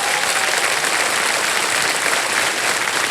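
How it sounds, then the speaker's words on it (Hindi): A studio audience on a television quiz show claps to welcome a contestant, with loud, dense, steady applause filling the whole moment. "तालियों के साथ इनका स्वागत।"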